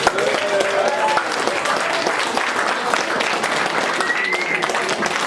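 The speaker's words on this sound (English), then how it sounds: "let's have a massive round of applause" Audience applause after a speaker thanks the crowd at a strike songs sing-along event, a dense steady wash of clapping lasting throughout, with faint voices and brief tonal sounds mixed in.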